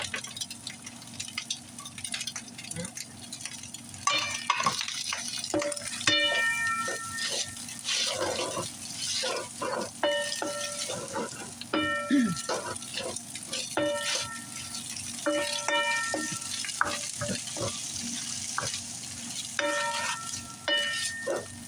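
Garlic frying and being stirred in a pan while cooking chicken fried rice with vegetables, giving a steady sizzle with repeated scraping and clattering from stirring and occasional sharp clinks, all close and without any talking.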